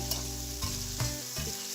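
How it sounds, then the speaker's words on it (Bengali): Onion and green chilli fry lightly in oil for rohu fish curry, a close sizzling hiss broken by a few scrapes of stirring, with soft background music and no speech. "এখন এই পেঁয়াজ কাঁচামরিচটাকে আমি"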